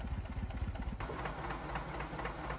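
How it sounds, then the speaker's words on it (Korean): Steady mechanical engine-room drone from a virtual instrument sample, with a rapid rhythmic chugging that shifts to a denser, hissing machine roar partway through. "여기 보면 디 엔진룸 요거 한번 들어볼게요"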